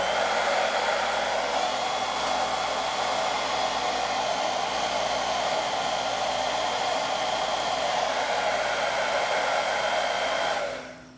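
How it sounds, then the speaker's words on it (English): A hair dryer powered through a Bluetooth-controlled smart outlet runs with a steady high whine and airy blast for several seconds, then winds down abruptly as it switches off. "I have a hairdryer plugged into it to demonstrate."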